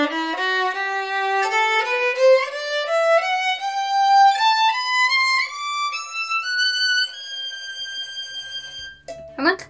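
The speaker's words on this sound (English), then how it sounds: "because the violin's quite small, it can make quite high sounds like this." A single violin plays a rising sequence of sustained notes, climbing steadily into a high register, each note clear and close, alone with no talk, ending with a brief faint noise.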